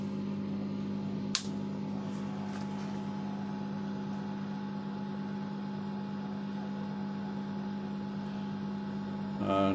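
A Sputnik microwave runs with a tin of beer inside, giving a steady close-up mains hum with a buzzing drone throughout, one sharp click early on and a slight rise in noise at the very end.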